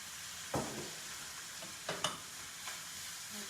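Food frying in a pan with a steady low sizzle, punctuated by several soft scraping stirs, close and fairly quiet.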